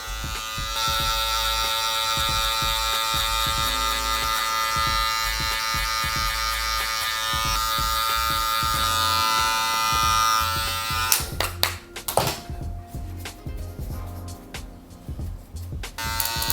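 Electric hair clippers run steadily while cutting a low taper at a barber's chair, with the lever set at the three-quarter position; a close, continuous buzz holds for about eleven seconds, then breaks into choppier bursts as the blade lifts on and off the hair.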